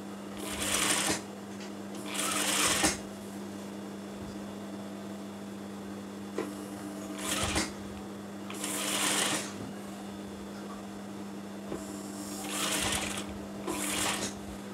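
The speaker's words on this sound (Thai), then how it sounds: "ค่อยๆเย็บทีละช่วงสั้นๆนะคะไม่ต้องใจร้อน" Sewing machine stitching a woman's shirt collar in short bursts, five separate runs of a few seconds each with pauses between, close and clear over a steady low mains hum.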